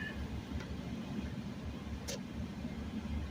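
A manual-transmission car rounds a turn in second gear, its engine a low, steady hum with road noise, joined by a couple of faint short clicks.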